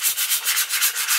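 Close, even strokes of sandpaper rub across a vintage 1960s hatchet by hand, a quick series of roughly six rhythmic rasping passes with no talking.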